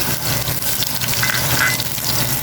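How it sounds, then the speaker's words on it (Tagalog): Garlic sautéing in a pan as the first step of a Filipino pochero, with a steady, close sizzle of hot oil running without pause and no voices. "Unahin po natin isote yung ating garlic."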